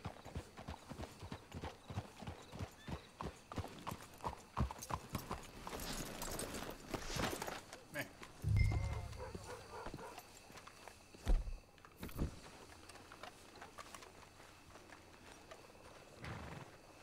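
Horse hooves clip-clop at a walking pace in the video game Red Dead Redemption 2, steady and fairly close, with a few heavier thumps and low rumbles along the way.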